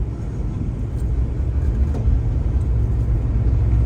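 A 1971 Chevrolet Chevelle drives past, its engine a deep steady rumble with a low throaty roar, fairly loud and without talk.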